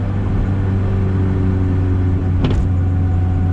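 A turbocharged EF hatch car cruises in 5th gear, its engine droning as a steady, loud, low hum inside the cabin, with one brief higher whoosh midway as boost builds.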